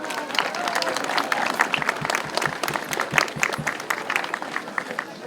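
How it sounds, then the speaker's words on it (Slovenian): A crowd at a town Christmas fair gives a warm round of applause, steady dense clapping with a few louder claps close by, gradually easing toward the end. "Tako da prosim za en veliki aplavz za Idlo."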